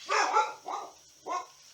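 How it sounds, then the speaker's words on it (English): A dog barks three times nearby, two fuller barks and then a third, each short and clear against a quiet room. "My dog's going to bark."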